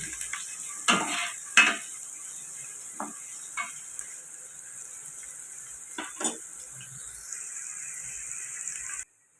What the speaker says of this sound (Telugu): కట్ చేసి పెట్టుకున్న పచ్చిమిర్చి ఉల్లిపాయలు అయితే వేసేసుకున్నాం. వీటిని కలుపుకుంటూ ఫ్రై చేసుకున్నాం.